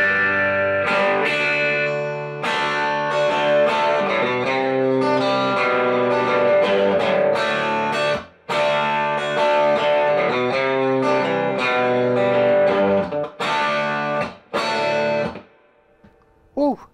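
A distorted electric guitar played through a Vexx Audio Bluebear overdrive pedal, chords and sustained riffs with brief pauses, loud and thick, ending in a fading note.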